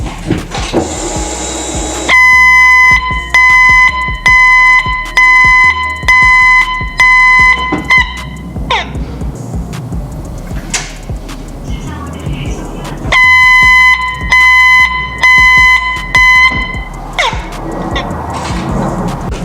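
A loud, steady reverse warning buzzer on a Tata Daewoo Prima truck pulses in two long stretches, separated by clanking and mechanical noise, with a speaking voice in between.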